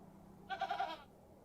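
Goat Eunice from the game Hob's Barrow gives one quavering, nasal bleat lasting about half a second, close and distinct over a quiet, faintly hissing background.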